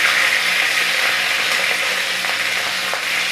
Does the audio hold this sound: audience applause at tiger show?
no